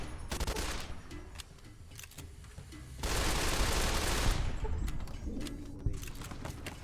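Gunfire in the video game Fallout: New Vegas, rapid bursts of shots and a dense stretch of sustained firing, loud and close, with no speech.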